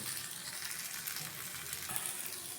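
Potato chilas, savory pancakes, sizzle steadily in a hot pan as they are fried and turned, a continuous close hiss of oil with no talking.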